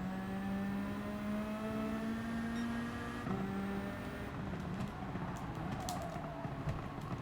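A Toyota Supra racing in Gran Turismo 7, its engine droning steadily at high revs with shifting pitch and a gear change partway through, loud and continuous, with no talk over it.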